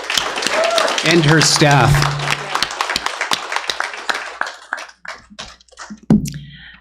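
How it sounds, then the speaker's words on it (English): Applause for a school principal at a regular school board meeting, sharp individual claps from a small group that thin out and fade after a few seconds, with talking over the start. "give her a round of applause"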